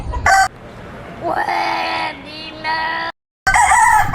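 A rooster crows loudly nearby in a long drawn-out call, with shorter squawks before and after it and a brief cut of silence.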